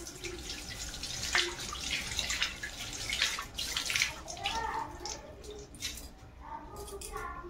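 Hands wash under a running tap, water splashing and gurgling unevenly with rubbing and squishing sounds at close range, while a voice speaks softly in the background.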